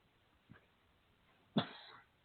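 A faint throat sound is followed by a single sharp cough, close and brief, against quiet.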